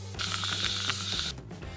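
Shaving foam sprays from an aerosol can for a white glue slime, giving a loud close hiss with a rattling mechanical edge that lasts just over a second before it cuts off into quieter background.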